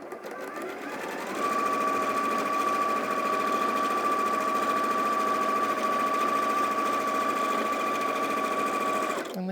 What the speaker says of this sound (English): I'm now sewing this over here